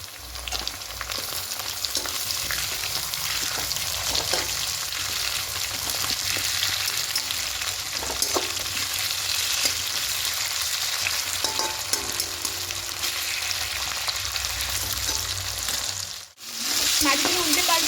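Hilsa fish heads fry in hot oil with onion and green chillies, giving a loud, continuous close sizzle with light stirring scrapes. The sizzle dips briefly near the end, then resumes.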